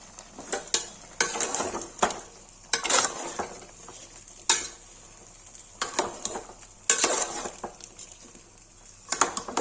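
Mutton and onions fry in a kadai while being stirred, with repeated sharp metal scrapes and clinks of a spatula over a soft sizzle, close and irregular.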